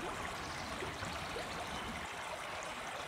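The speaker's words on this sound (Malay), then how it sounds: "Itulah Dini, sejuklah sungai ni." A cool river flows with a steady, soft, continuous rushing and trickling, faint and even, with no voices.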